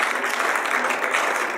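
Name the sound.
audience applause for the speaker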